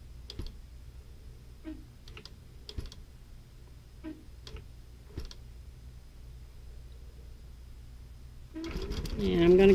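A quilting sewing machine stitching a block in quiet bursts, with a few short clicks and runs of stitches spread over a soft hum. A person speaks near the end.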